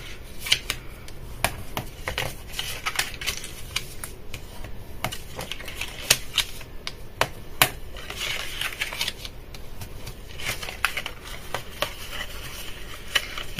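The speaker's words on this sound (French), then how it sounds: "On marque les plis, toujours." Paper creases are pressed in for a folded box, giving a steady series of sharp close taps and scrapes, crisp and repetitive with no talking.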